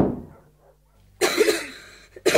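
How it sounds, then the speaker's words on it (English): Harsh coughing in a 1995 abridged audiobook of an Enid Blyton Famous Five story, two loud close bursts after a short quiet gap. "there's a cough you've got"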